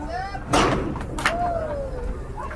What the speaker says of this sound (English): That one hits the stands and makes a loud thud.